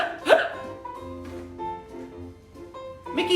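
A storyteller's voice imitates a single sharp hiccup near the start over soft, sustained background music, with another short vocal burst at the very end.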